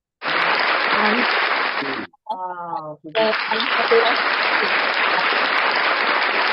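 A church congregation breaks into loud sustained applause, interrupted midway by a short spoken exclamation, then the clapping resumes and continues to the end.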